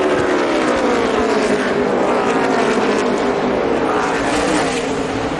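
NASCAR stock cars roar past at full throttle on the final lap, a dense, loud, continuous engine wail with shifting pitch as cars sweep by, steady throughout.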